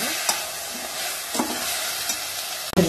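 Ingredients for sprout rice frying in a pan over a sim flame, a continuous close sizzle with occasional spoon scrapes and a sharper knock near the end, no talking.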